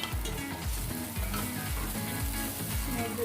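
Onion sizzling in hot oil for a pork and green mustard stir fry, a loud steady frying hiss close by, with regular low thumps as the pan is worked.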